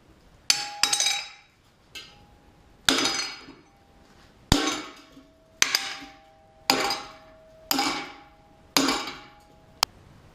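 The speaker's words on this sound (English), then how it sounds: "let me go bend this piece of metal" Metal struck hard on a vise while being bent over it, about nine sharp ringing hammer blows at irregular intervals, each clanging and decaying quickly, close and loud with no talk.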